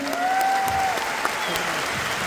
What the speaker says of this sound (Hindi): इसके बाद हमारे एमडी सर के लिए भी जोरदार तालियां होनी चाहिए